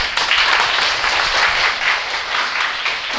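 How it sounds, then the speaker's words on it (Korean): An audience claps steadily to welcome an author, an SNS-star poet, to a school lecture, with dense, sustained applause filling the room throughout and no voices over it. "큰 박수로 맞이해주세요."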